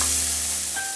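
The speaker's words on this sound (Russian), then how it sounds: "Ну и нужно хорошо вот так пассеровать." Garlic and onion sautéing in a frying pan, a loud, steady sizzle with constant frying hiss and no voices across the short moment.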